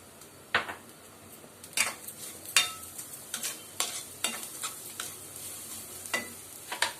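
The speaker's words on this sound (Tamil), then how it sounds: "அது கொஞ்சம் ஈரம் போகிற வரைக்கும் கொஞ்சம் நல்லா வறுத்து எடுத்துருங்க" Grated coconut roasts in ghee in a pan for a Kerala stuffed banana filling, stirred with repeated quick scraping strokes in a loose rhythm over a faint sizzle, close and without any talking.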